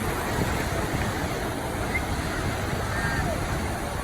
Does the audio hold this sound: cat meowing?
no